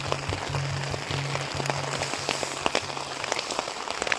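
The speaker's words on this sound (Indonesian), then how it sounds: "Hujan mengguyur hampir 2 hari." Heavy rain pours steadily onto surfaces outdoors in Karelia, northern Russia, a dense continuous hiss with scattered sharper drop hits, close and loud.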